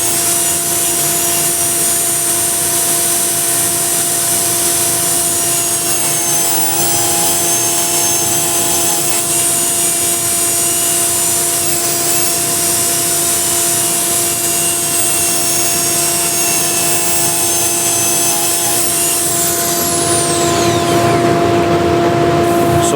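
Wood sanded with 180 grit sandpaper, a loud continuous abrasive rubbing that stays even for over twenty seconds, with a steady machine-like hum beneath and a slight change in tone at the end.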